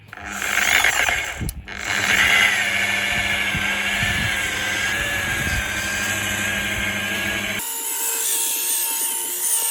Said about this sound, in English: So now I polished the element with the white pad.